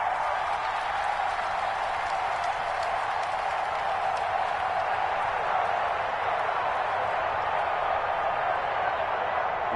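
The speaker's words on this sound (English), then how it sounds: "the crowd getting into it as we come up on a big 3rd down" A stadium crowd in a football video game cheers in a steady, distant roar that holds at an even level throughout and is heard alone.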